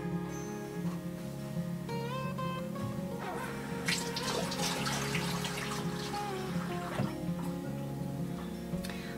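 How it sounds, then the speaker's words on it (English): Tap water trickling and splashing into a sourdough starter made from potatoes, running steadily for several seconds with varying splashes, close by, over a faint tonal hum and with no voices. "Well, I'm just going to add a little bit more water."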